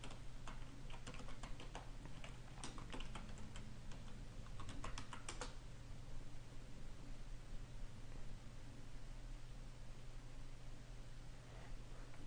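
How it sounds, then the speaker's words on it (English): Keys clack on a computer keyboard in quick bursts as admin credentials are typed. The taps are faint and close and fall silent about halfway through, leaving only steady background hiss. No one speaks. "We'll enter the admin credentials."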